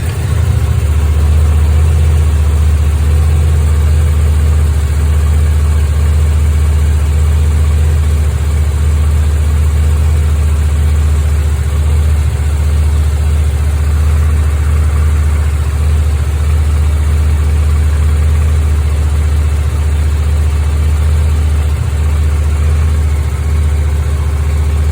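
A Suzuki GSX-8S motorcycle engine runs at a steady, loud, close idle with a constant low rumble that never changes for the whole stretch, and no voices are heard.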